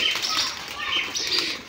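A Giribaz pigeon flaps its wings while landing, a close, rapid whirring flutter of wingbeats that comes in several surges over a second or two, with faint chirps around it.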